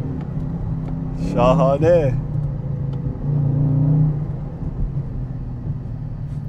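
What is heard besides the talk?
2021 Dodge Charger Scat Pack accelerating in sport mode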